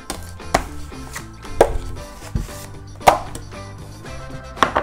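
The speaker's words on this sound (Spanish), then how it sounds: "con un movimiento rápido y seguro, vamos a despegar una parte del chocolate de todo el conjunto y lo vamos a tirar dentro de nuestro bowl" Chocolate scraped loose from a set block and tossed into a bowl gives a few sharp knocks and taps spread across a few seconds, over a soft, steady tonal background.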